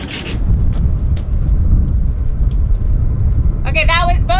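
Both engines of a catamaran run at 2,000 RPM while setting anchor, a heavy, loud low-frequency rumble that holds steady throughout, with a few faint clicks and a person starting to speak at the end.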